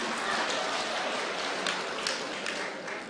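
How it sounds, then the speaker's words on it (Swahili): A crowd applauds for the leaders at a gathering, with dense, steady clapping that fills the whole stretch at a fairly even level. "muwapigieni makofi"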